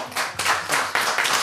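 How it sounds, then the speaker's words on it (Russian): A short burst of hand clapping during a Russian quiz game for children: a few quick rounds of claps, close and fairly loud, with no talking over it. "тебе хлопали"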